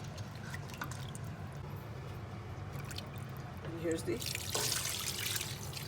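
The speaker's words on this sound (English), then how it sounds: "I got to get some more water to put in here." Water is poured into a pot for chicken yakhni pulao in a home kitchen, a steady splashing pour that swells near the end, heard under a person speaking.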